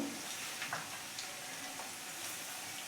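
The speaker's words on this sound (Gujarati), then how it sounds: "આ મસાલા નાખ્યા એને આપણે બે બે ત્રણ સેકન્ડ જેવું શેકાવા દઈશું" Ground spices, turmeric and chili powder, roasting in hot oil give a steady, soft sizzling hiss with faint crackles, close by and quiet, with no talk.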